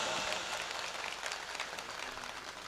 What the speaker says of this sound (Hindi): एक बार भाई साहब के लिए जोरदार तालियां बजा दीजिएगा अपनी अंतरात्मा से